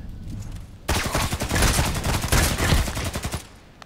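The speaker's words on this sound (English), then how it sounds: "One is sniping from the right side, the other one is shooting from top." Dense gunfire from an online shooter, Contract Wars, with sniper shots and automatic bursts; a loud, rapid volley of crackling shots lasting a few seconds after a quieter start, fading out at the end.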